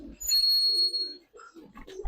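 Giribaz pigeons give a few low, throaty coos in short bursts, with a thin high whistle-like tone early on and a soft thump at the end.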